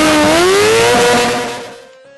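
A street bike engine at a freestyle stunt show howls at high revs, its pitch climbing steadily near the rev limiter before cutting off and fading out.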